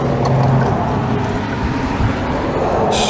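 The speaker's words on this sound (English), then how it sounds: "Got a bunch of cars passing right now." Cars roll past on a nearby road in a loud, continuous rumble of tire and engine noise, with a brief higher hiss at the very end as one passes closer.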